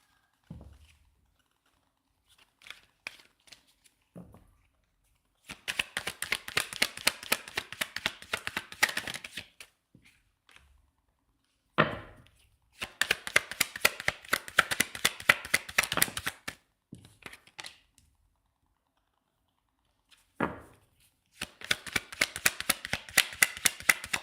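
Trading cards are shuffled aggressively in three long bursts of rapid riffling clatter, each lasting several seconds and separated by quiet gaps with a few scattered taps, close and fairly crisp.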